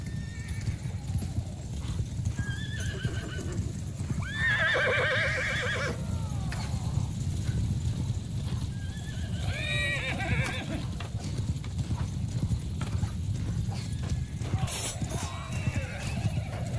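Horses gallop with a steady clip-clop of hooves while several whinnies ring out over a dense, rumbling background in a large battle in the video game Bannerlord.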